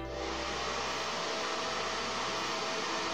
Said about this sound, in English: I am gonna hit it with the hair dryer and see if I can loosen it up